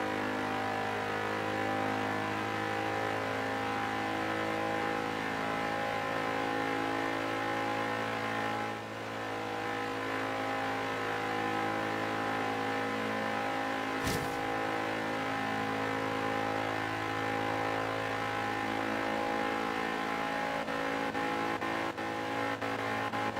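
Engine of a slow, heavy Goliath car in the Forza Horizon 3 racing game revving steadily in third gear, a loud continuous droning tone with stacked harmonics that holds nearly constant throughout, with a brief click midway.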